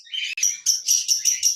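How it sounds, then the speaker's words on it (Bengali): A pair of caged golden finches chirping up close, a quick run of about six bright, clear chirps in a steady rhythm, loud and with no voices. "এক জোড়া গোল্ডেন ফিন্স পাখি রয়েছে"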